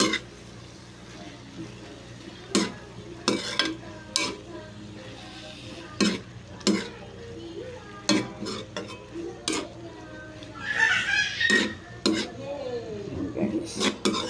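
Cabbage being stirred as it cooks in a pan, with sharp utensil knocks and scrapes against the metal at uneven intervals over a soft sizzle, and a brief voice near the end.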